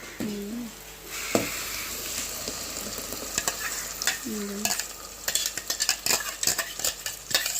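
Tomato paste sizzles steadily in an oily pan for tomato pulao while a spoon scrapes and stirs it in repeated close, clattering strokes, getting busier toward the end.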